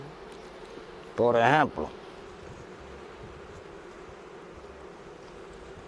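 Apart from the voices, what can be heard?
honeybees at a hive in Cuba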